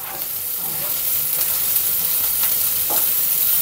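Food sizzling and frying steadily in a hot pan while noodles are being cooked. A loud, continuous crackle fills the space close up, and faint stirring clicks show through now and then.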